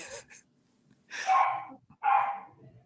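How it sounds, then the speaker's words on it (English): A dog barks upstairs, about two floors away: two loud, muffled barks with a short yelp at the start, each followed by a pause. "your dog is pissed about something"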